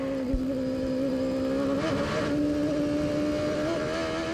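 IndyCar race car driven by Alex Zanardi at Cleveland, its engine held hard on the revs in a steady, loud, close drone with slight pitch wavers, alone with no talk.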